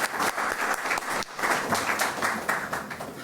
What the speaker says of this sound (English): One round of applause to everyone.